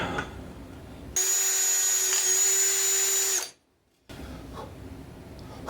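Power drill enlarging a small hole to a quarter inch on a bicycle fender while routing dynamo wiring; a brief idle whir, then a sustained high-pitched whine for about two seconds that cuts off abruptly, followed by faint handling noise.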